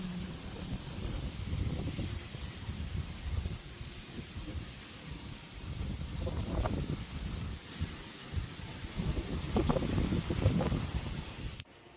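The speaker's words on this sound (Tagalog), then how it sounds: "Lumalakas na yung hangin, guys." Strengthening wind outdoors as Typhoon Uwan approaches, a steady rushing roar with gusts that swell and fade, buffeting the microphone throughout.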